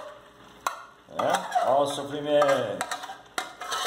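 Pasta sauce being stirred in a large frying pan for a macarronada, with soft scraping and a light sizzle close by, mostly beneath someone talking over it.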